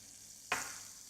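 Margarine hits a saucepan on the stove for a roux white sauce, one short, sharp sizzle that fades into a faint hiss, heard close and alone.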